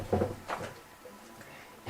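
A door swings shut with a dull wooden thump up front, a lighter rattle after it, then quiet room noise before another knock at the end, close and moderately loud.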